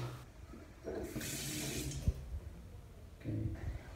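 A hotel bathroom tap in a Kathmandu boutique hotel runs in short bursts, water hissing and splashing close by as it is turned on and off, with no voices.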